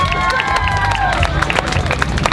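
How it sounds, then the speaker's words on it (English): An outdoor festival crowd applauds and cheers in a short, loud burst, with voices and chatter mixed into the clapping. "And a big round of applause to my friend!"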